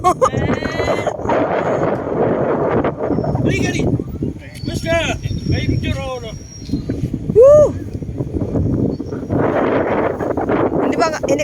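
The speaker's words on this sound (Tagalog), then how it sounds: "Ang lakas ng hangin nyo." Strong wind buffets the microphone with a steady low roar while people on an amusement ride at a botanical garden in Infanta, Quezon talk and exclaim over it.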